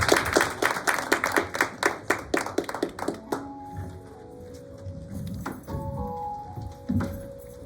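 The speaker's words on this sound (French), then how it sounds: "Un petit applaudissement pour merci." A church congregation gives a short burst of hand clapping for a pastor, about three seconds of dense claps that stop, leaving quieter tones and murmurs behind.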